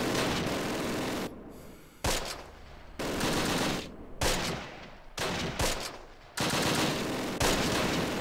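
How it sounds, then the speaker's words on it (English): Artillery barrage in a D-Day video game: dense, continuous rumbling blasts arrive in long loud bursts separated by brief gaps, heavy and close throughout, with no talk. "Let's see how this artillery barrage does."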